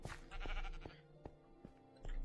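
A Minecraft sheep bleats in the modded world Life in the Woods, a near, fairly loud wavering cry repeated over a steady pulsing game background with no speech.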